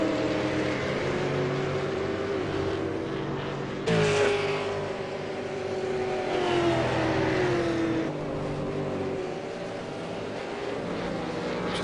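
V8 Supercars race cars on a warm-up lap at Oulton Park, a steady, loud engine drone that rises and falls in pitch as the cars change gear and accelerate, with a sudden burst of extra noise partway through.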